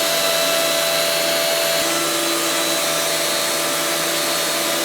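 A Dewalt router mounted in an X-Carve CNC machine running steadily at high speed, giving a loud, continuous, even whine and roar close by with no change in pitch.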